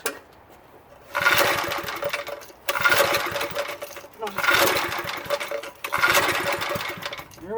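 An old McLane edger's small engine, cranked after eleven years in storage, in four repeated pull-start bursts of sputtering, rough running, each dying away between tries; close and loud.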